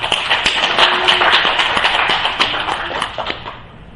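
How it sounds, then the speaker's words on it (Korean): A church congregation applauds together during a Sunday worship service in a Korean church, a dense, steady wash of many hands clapping at close range, with no talk over it. "그 하나님께 영광의 박수 올려드립니다."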